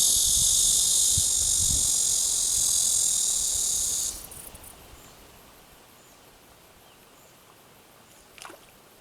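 Loud, steady cicada buzzing at a mountain valley reservoir fills the first four seconds, then cuts out, leaving quiet ambience with a brief faint rustle near the end.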